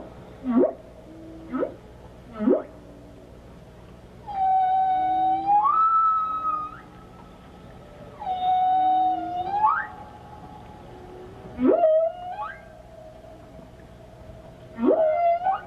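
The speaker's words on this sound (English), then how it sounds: "we hear in the background the underwater song of a humpback whale." Underwater humpback whale song: long rising and falling moans and squeals repeating in phrases, clear and fairly loud with a slight echo, alone without talk.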